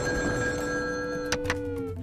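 A telephone bell rings continuously and close by, steady and fairly loud, with two brief knocks near the end and no voices.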